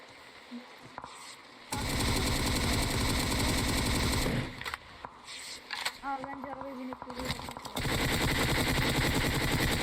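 Bursts of rapid automatic gunfire in PUBG Mobile, loud sustained volleys with brief gaps between them, while players talk over the shooting.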